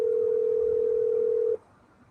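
An outgoing phone call that goes unanswered, a single steady telephone tone holding for about a second and a half before cutting off into faint room noise.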